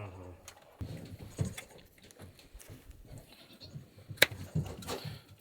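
A goat with thick fur bleats during hoof trimming, its calls mixed with handling noises and close shuffling, while people talk nearby.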